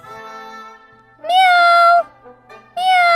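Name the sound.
actor imitating a cat meowing in a stage drama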